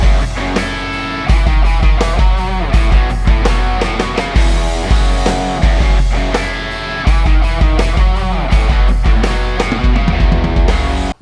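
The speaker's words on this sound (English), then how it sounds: "So it sounds something like this when I add in 2 guitars." Two recorded electric guitars play a rock riff together over a drum beat, thick, distorted and loud, with repeating chugging phrases and no voices.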